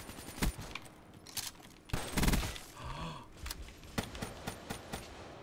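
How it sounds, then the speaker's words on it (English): Rapid gunfire from Call of Duty: Black Ops 3 in a Prizefighter multiplayer match, with bursts of automatic shots and a heavier volley near the middle, set against steady game ambience. "Why was I pre-firing that so hard?"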